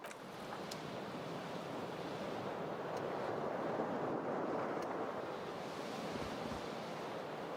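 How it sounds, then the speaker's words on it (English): Cold wind blowing steadily through a broken window in the game Disco Elysium, a continuous broad whooshing rush with a surf-like swell that stays loud and unbroken throughout. "The window stands broken in its frame. Cold wind blows in."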